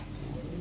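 Lahori Sirazi pigeons cooing in a short, low, steady murmur, fairly faint and close, with no talk over it.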